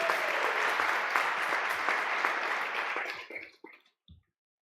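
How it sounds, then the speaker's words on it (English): An audience at a reparations speaker-series event claps steadily in a sustained round of applause that tapers off into a few last scattered claps before silence. "Give her another round of applause"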